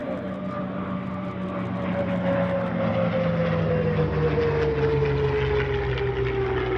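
A CAC CA-18 Mustang, the Commonwealth Aircraft Corporation's license-built North American P-51D, flying at the Wings Over Illawarra 2021 airshow, its piston engine droning loudly with a steadily falling pitch as it passes close overhead.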